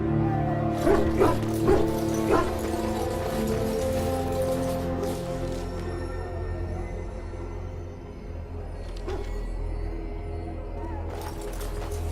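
Hounds in the Dragon Age: Origins video game, a few close barks and yips early on, followed by lower growling and whimpering under a constant ambient drone, with a voice speaking over them.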